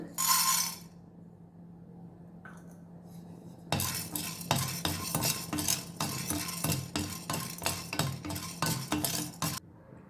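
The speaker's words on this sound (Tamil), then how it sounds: "கடலப்பருப்பு நல்லா வறுபட்டுருச்சு." Chana dal dry roasting for rasam powder, stirred with a metal spoon in a pan: a brief scrape, a pause with low hum, then steady repeated clinks and scrapes of utensil against metal, fairly close and continuous.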